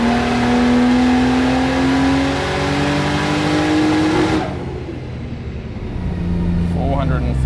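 A Barra-engined Holden revving hard on a dyno, running rich and misfiring up top, its high, rising engine tone held steadily before abruptly cutting out to a lower, rougher idle.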